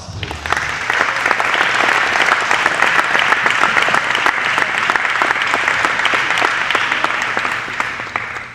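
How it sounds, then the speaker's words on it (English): A crowd at an athletic awards ceremony gives a sustained round of applause, dense steady clapping filling the room for several seconds before tapering off at the end. "let them have another round of applause, please"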